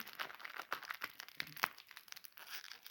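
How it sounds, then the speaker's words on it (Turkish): A plastic bag of Haribo Goldbears gummy candy is torn open close by, a quiet run of crinkling and tearing rustles with no talking. "Şimdi Haribo altın ayıcıya geldik. E, açıyorum."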